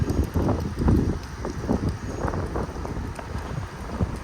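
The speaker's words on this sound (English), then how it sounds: "as the wind picks up a little bit" Gusty wind blows outdoors in a downtown street near a historic train station in Lebanon, Pennsylvania, buffeting the microphone in uneven rushes that swell and fade throughout.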